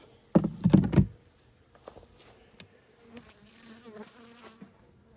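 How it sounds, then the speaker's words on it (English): Honeybees buzz around an opened hive, with a loud close burst of buzzing at first, then a fainter hum with soft knocks and taps; no one speaks. "Oh, there's a lot of bees there."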